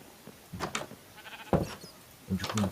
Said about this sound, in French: Et on va attirer des moutons.